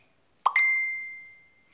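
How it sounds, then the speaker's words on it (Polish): A phone chimes once for an incoming SMS, with a quick double-struck onset and then a clear ringing tone that fades slowly, alone in a quiet room. "Przyszedł SMS."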